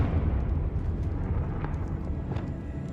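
The Confringo blasting spell goes off in the video game Hogwarts Legacy, a loud, dense rumbling explosion that roars steadily for a few seconds with faint crackles on top.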